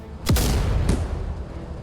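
A tank cannon fires once in the video game Afterconflict, a loud deep boom with a quick sharp attack, a second blast following about half a second later, both trailing into a rumbling decay.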